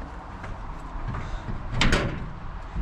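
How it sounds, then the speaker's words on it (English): A twisted fire door in an abandoned building being tried, a low scraping rattle followed by a louder shove and grinding thump near the end, close by and fairly strong. "This one, yeah, this fire door."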